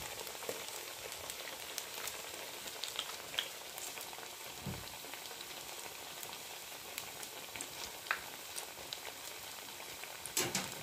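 Soft, steady sizzling and crackling of vada frying in hot oil, with occasional louder pops, quiet and continuous without talk.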